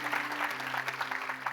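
A church congregation applauds together at a steady, moderate level through the moment, with faint talk and a low hum underneath.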